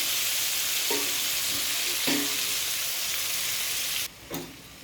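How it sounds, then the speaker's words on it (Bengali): Onions hiss loudly and evenly in hot oil with whole garam masala, with a few soft stirring knocks and the sizzle dropping away near the end. "দিয়ে পেঁয়াজটা ফ্রাই করে নেব। পুরো পেঁয়াজটাই দিয়ে দেবো।"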